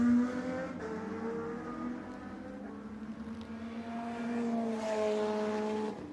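Lotus Cup race car at the Imola circuit, engine droning steadily with harmonic whine rising and falling through gear changes, moderately loud and continuous, no talk.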